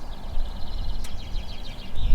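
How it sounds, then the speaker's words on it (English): Blissful Yorkshire countryside ambience: a soft outdoor hush with light bird chirps and twitters drifting in the distance, plus a faint brief click, no talking. "That's the sound of the blissful Yorkshire countryside."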